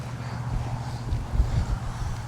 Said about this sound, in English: there's a little bit of breeze